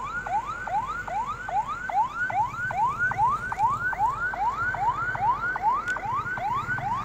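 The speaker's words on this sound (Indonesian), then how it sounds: "Ambulan bawa orang sakit" An ambulance siren wails in fast repeating up-sweeps, steady and fairly loud over a low rumble of traffic, cycling evenly for the whole stretch, amid thick haze.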